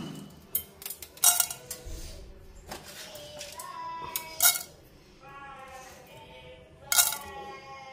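Tempering seeds are tipped into a pan for a cluster bean curry, giving sharp metallic clinks and rattles in a few short bursts, with quiet kitchen sounds between them.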